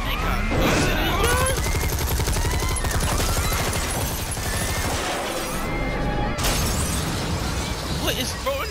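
Dense bursts of gunfire in the Yakuza 1 video game, rapid shots and cracks layered with impacts and breaking sounds, loud and almost continuous, with voices talking over the chaos.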